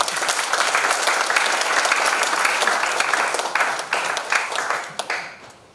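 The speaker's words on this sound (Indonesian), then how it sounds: "Tepuk tangan untuk kita semua." A congregation applauds at the closing Mass of a family congress. The clapping is full and sustained, then thins into scattered claps and fades out at the end.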